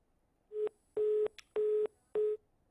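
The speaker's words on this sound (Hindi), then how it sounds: "योगेश जी, चलिए लगता है उनसे संपर्क हमारा टूट गया है।" On a broadcast phone line, right after the connection drops, a steady beeping tone repeats four times at an even pace, each beep about a third of a second long, alone with no talk.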